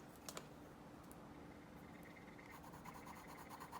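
A Crayola colored pencil pressed hard on paper, a soft continuous scratchy rubbing with faint short strokes, quiet and close.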